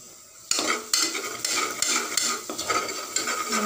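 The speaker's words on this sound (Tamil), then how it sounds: "நல்லா வதங்கட்டும்" Ingredients for mutton rajma curry sautéing in a pan, loud sizzling that starts abruptly at half a second, broken by repeated spoon-scraping stirs and metallic clinks, close and with no talk.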